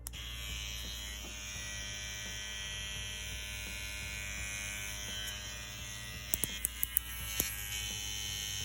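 A rotary InkClaw Dagger tattoo machine running with a Stigma 007 round shader needle gives a steady low electric hum and buzz throughout, with a few sharp clicks near the end as the grip is adjusted.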